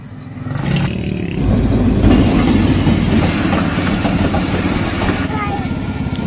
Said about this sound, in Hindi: फाटक बंद है, इंतजार कर रहे हैं रेलगाड़ी का।